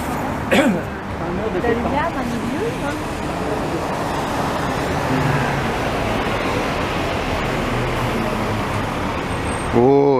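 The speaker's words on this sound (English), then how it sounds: "we'll watch a couple of buses come this way here" Street traffic rumbles steadily as an older Nova city bus passes on Rue Notre-Dame in downtown Montreal, its engine drone filling the scene, with brief voices near the start and end.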